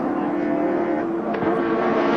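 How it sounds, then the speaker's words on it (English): Race cars including a BMW M3 at the 1991 Bathurst 1000, a steady loud engine roar with one car passing close by near the middle, with faint commentary underneath. "The Golson car there, the one we saw in the pits a few moments ago, getting the go-by from the BMW M3."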